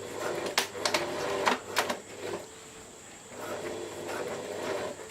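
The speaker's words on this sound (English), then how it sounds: "I'm also going really slow because I'm sewing over my pins and I don't want to cop one in the eye" Sewing machine stitching a rash guard slowly over pins, heard as short bursts of close mechanical whirring and clatter with brief pauses between runs, alone without talk.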